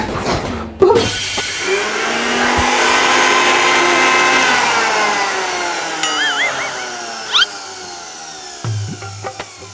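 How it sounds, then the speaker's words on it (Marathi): A mixer grinder whirs loudly, its motor pitch rising and holding steady before winding down, with a few clunks and brief squeaks near the end. "मग मिक्सर चालू करा की"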